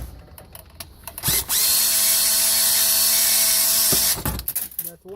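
A power driver whirs steadily for about two and a half seconds while backing a screw out of an oven shield, preceded and followed by clicks and handling noises.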